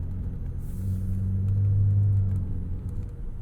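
A 2021 McLaren GT drives around a golf course, its engine a steady low rumble heard from inside the cabin, swelling slightly mid-way, with a brief faint high chirp near the start.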